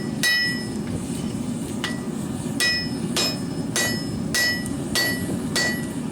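A hammer strikes hot steel again and again on an anvil, flattening it into a broad pancake before it is folded into a Viking seax blade made from smelted ore. The blows are loud and evenly spaced, about eight in six seconds, with no talk.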